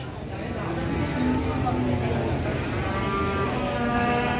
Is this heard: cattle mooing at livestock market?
yes